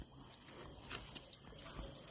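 Crickets chirp at night in dark, tree-filled surroundings, a faint steady high-pitched trill running continuously with no talking.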